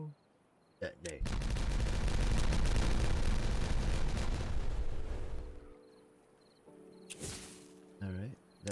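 Explosives detonate in a Timberborn building game, a dense crackling blast rolling loud for several seconds before fading, followed by sparse bursts and chirps.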